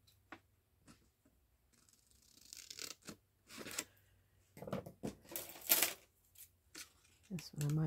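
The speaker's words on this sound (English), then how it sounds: "Let's cut out the corners." Scissors snip the corners off paper, with several short crisp cuts and papery rustling interleaved with a person talking.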